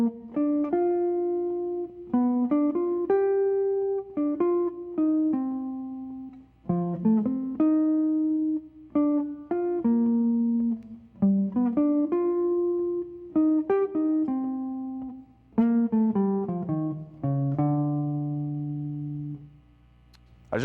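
A jazz guitar etude built from blues licks, played as clean single-note phrases with bends and slides in a flowing, loud, close rhythm that ends on a held low note.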